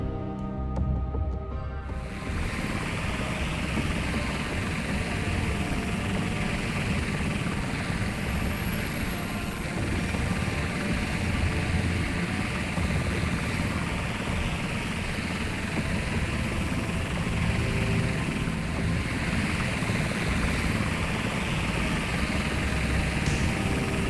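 A helicopter flies over the Suez in the naval game Sea Power, its rotor and engine a steady, loud drone held throughout with no voices.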